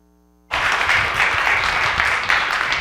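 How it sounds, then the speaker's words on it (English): Audience at an eCommerce tech conference in New York bursts into sustained applause after a brief silence, dense steady clapping from a full room. "please give a warm welcome and round hand of applause to Paulius."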